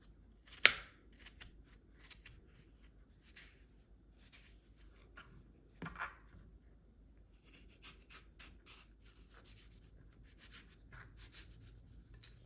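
Fruit being cut with a knife for fruit chaat, faint soft slicing and tapping on a board, with a sharper click early on and scattered quiet scrapes.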